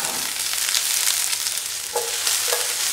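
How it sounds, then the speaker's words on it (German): Beef strips frying in a pan with olive oil, garlic and rosemary, a steady close, bright sizzle with faint stirring clicks and no talk over it. "So, und jetzt lassen wir das Ganze kurz anbraten, dass wirklich ein paar Röstaromen entstehen"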